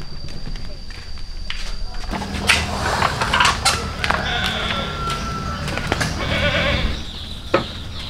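Goats in a goat pen bleat several times amid shuffling movement and hoof sounds, while people talk nearby throughout.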